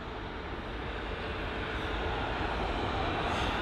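Airlink Airbus A320neo taxiing at London Heathrow, a steady, distant engine rumble and broad roar holding evenly throughout with no distinct events.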